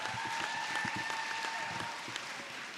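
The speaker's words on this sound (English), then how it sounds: "Give them another round of applause." Steady applause fills a student awards ceremony hall after a performance, dense clapping from a sizable audience with a faint sustained tone running underneath.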